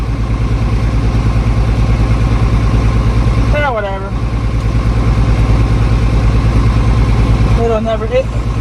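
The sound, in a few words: International Harvester 1586 tractor engine idling after cold start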